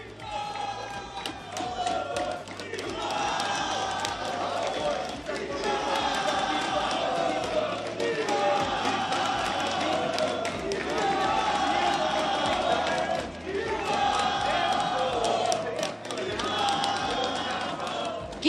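A large crowd in a football video game roars continuously in waves during a CONMEBOL eLibertadores knockout match, swelling and easing, with an excited commentator-like voice layered over the din.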